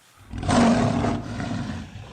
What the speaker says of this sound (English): And this is the sound a lion makes.